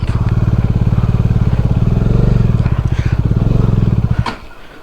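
A motorcycle engine labors on a rough jungle track, thumping in a fast, loud, steady pulse right up close for about four seconds before it suddenly drops to a quieter idle.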